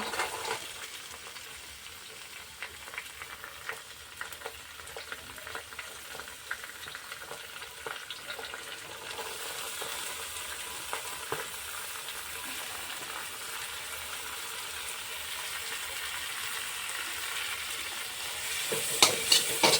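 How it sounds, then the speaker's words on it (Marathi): Onion sautéing in oil in a pan for egg bhurji, a continuous soft sizzle with scraping stirs throughout, growing slightly brighter near the end with a few sharp clinks, no voices. "कांदा जो आपल्याला आहे पहिले याला चांगलं परतून घ्यायचा आहे"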